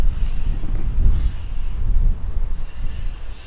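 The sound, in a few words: wind blowing at backyard dirt jumps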